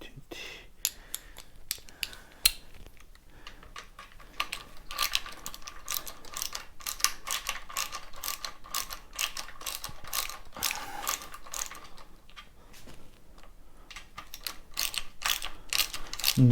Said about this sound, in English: now I'm going to take those other two bolts out the rest of the way.